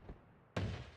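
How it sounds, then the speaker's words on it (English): A single sharp explosion in the game Noita: a soft thump, then a sudden bursting boom with a short rumbling tail, fairly faint and alone. "I heard a explosion"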